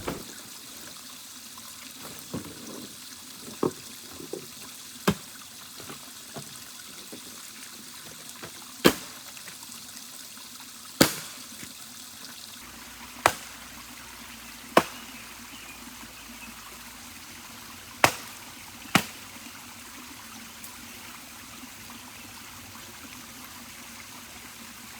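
Ground spring water trickles steadily into a 32-ounce jar outdoors, a soft continuous flow punctuated by about a dozen sharp, isolated clicks or knocks spaced several seconds apart, with no speech.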